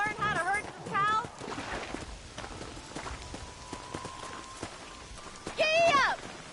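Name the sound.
horse hooves while herding cows, from a video game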